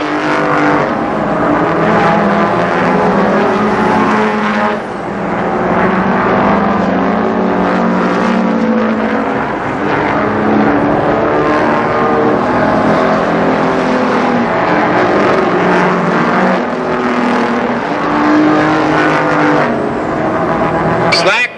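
Big rig trucks race at Columbus Motor Speedway in heavy lap traffic. Several loud diesel engines roar steadily and densely, while an announcer talks over the engine noise throughout.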